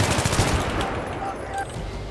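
AK rifle fire in Battlefield 3, a fast rattling automatic burst up close and loud, fading into a steady roar of battle noise, with a voice faintly beneath.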